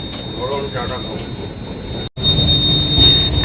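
Rumble and rattle inside a moving passenger train, running late on its way to NJP station, with a steady hum and a brief dropout midway, low voices murmuring in the carriage.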